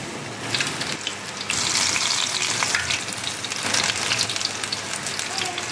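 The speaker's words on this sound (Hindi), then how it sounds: "और तेल गरम करके मीडियम फ्लेम पे आपने इसको फ्राई करना है" Spinach-leaf pakoras frying in hot oil on a medium flame give a steady, crackling, rain-like sizzle that swells louder after the first second and continues under light stirring.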